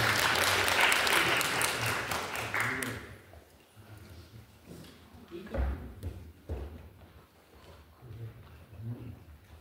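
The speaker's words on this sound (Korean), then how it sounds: "박수 부탁드립니다." Indoor audience at an anniversary community-organization event applauds a speaker being welcomed, a loud burst of clapping for about three seconds that fades out, followed by quieter room sounds, thumps and shuffling.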